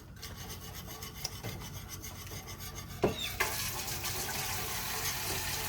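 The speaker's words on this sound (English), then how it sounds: "Pardon me while I wash those 2 fingers." Fingers washed under a running tap in a home kitchen, first soft rubbing and trickling, then after a clunk the faucet opens fully into a steady, close rush of water.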